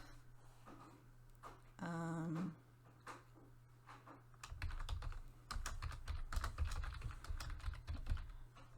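Computer keyboard typing with quick clustered clicks, near and clear; a brief whirring mechanical sound intrudes early before steady bursts of keystrokes continue over a low hum.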